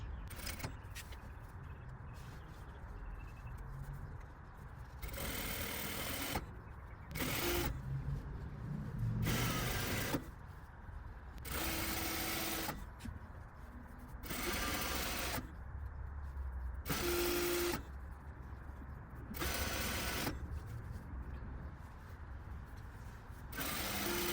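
A sewing machine stitches a quarter-inch folded hem on a circle skirt in loud bursts of rapid whirring, about nine runs of one to two seconds each, separated by quiet pauses.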